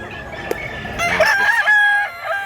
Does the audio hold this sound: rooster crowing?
yes